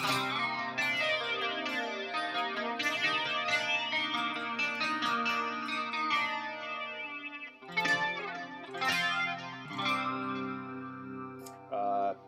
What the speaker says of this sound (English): Can add a flanger.